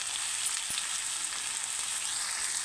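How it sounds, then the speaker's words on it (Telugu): Country chicken frying in a pan for a Telangana village-style natukodi pulusu, a steady loud sizzle with a brief clack of a utensil partway through and no voices. "ఇలా అయ్యాక మనం నాటుకోడి చికెన్ వేసుకోవాలి."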